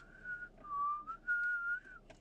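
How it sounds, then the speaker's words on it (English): Melodic whistling drifts in from outdoors, a few sustained tonal phrases with short breaks between them, moderately clear and with no talking over it. "somebody's just out there whistling like I just hear."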